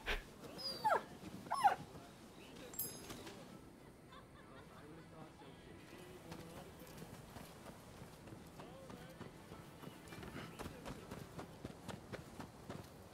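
A puppy in the video game Rise of the Ronin, with short yelps and whimpers early on, then soft pattering movement and game ambience continuing under a person talking.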